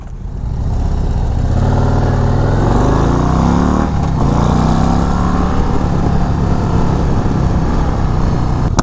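A 2024 Harley-Davidson Road Glide CVO ST with a 121 engine roars loudly and rises in pitch as it accelerates while riding, revving up steadily, then drops briefly and pulls again with a continuous rumbling drone.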